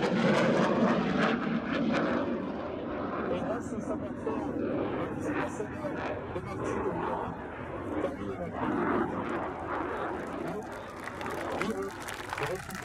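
A Rafale fighter jet flies a display at the 2017 La Ferté-Alais air show, its engine roar swelling and fading throughout while a voice speaks over it.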